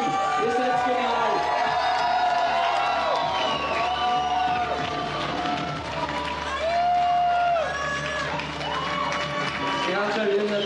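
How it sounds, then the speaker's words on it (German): A crowd celebrates a luge team's Olympic gold with loud, sustained cheering, whoops and shouted voices, and scattered clapping mixed in throughout. "Jetzt einmal einen Applaus fürs gesamte Rodelteam."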